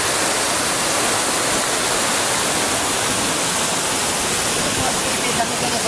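Loud, steady rushing of floodwater in a rural creek on a path to a farm, a dense broadband roar that fills the whole stretch without pause.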